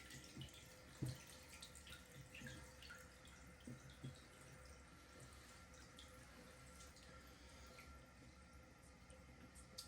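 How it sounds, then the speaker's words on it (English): A toilet tank refills through a newly installed fill valve, water running at full speed in a steady, faint hiss with occasional drips and small splashes, no voices present. "With the new fill valve on, you should be filling up at full speed again."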